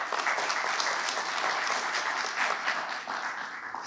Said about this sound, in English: See, Joe, I got an applause, so thank you for that.